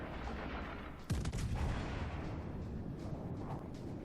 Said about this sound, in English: Guns aren't loaded yet, he's fired off a broadside.